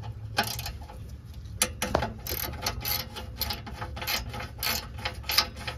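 Ratchet wrench loosening the bolts on an oxygen sensor of a third-generation Toyota 4Runner: close, crisp bursts of rapid clicking, repeated in short strokes with brief pauses between.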